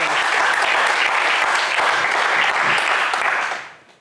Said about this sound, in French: des applaudissements pour Jean-Serge